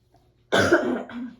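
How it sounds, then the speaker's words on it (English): A single sharp cough, loud and close, followed by a brief lower throaty tail, with no talk around it. "sorry, I tried to cover myself right now. I'm gonna try to do that if I cough."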